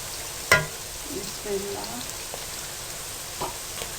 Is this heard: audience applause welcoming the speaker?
no